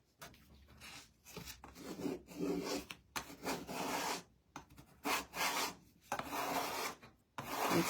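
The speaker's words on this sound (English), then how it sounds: "I may have to use my sander." Sanding MDF wood for a rustic yardstick Christmas tree craft, heard as repeated rough rubbing strokes in uneven bursts with short pauses between them, close to the microphone and fairly quiet, with no talking.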